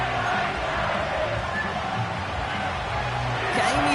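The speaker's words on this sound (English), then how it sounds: "you can already hear this home crowd rallying in support of that upset" A home stadium crowd in the Madden 25 football video game roars and cheers in a steady, loud wash of massed voices, with faint commentary mixed underneath.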